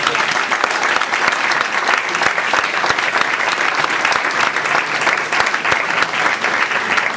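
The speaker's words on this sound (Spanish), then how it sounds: "Den un aplauso a Jesús." An audience in a church bursts into sustained applause, dense clapping from many hands that keeps a steady level throughout, filling the space without any voices standing out.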